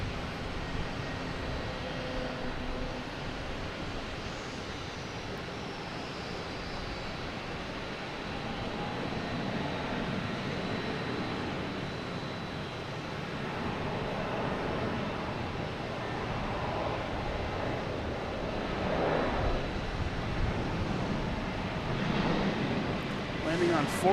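A JetBlue Airbus A321 arriving from Aruba lands on runway 4 left at Boston Logan, a broad rumbling jet roar with wind buffeting the microphone, building gradually and swelling louder near the end.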